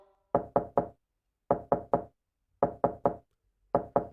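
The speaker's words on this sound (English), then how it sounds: "You can knock on the door all you want" Knocking on a door in four separate bursts of three sharp raps each, loud and close with silence between groups.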